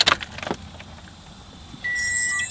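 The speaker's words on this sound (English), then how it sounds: "So let's turn on the car." Car keys jangle and click in the ignition, followed by a steady high electronic tone as the car's power comes on, close and clear without talk.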